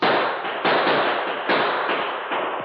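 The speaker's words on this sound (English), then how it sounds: "The men's answer was to open fire in the direction of the sergeant's voice as they scattered and ran toward the woods." Men open fire with guns while scattering toward the woods, a rapid series of sharp, loud bursts and cracks from nearby with no talk over them.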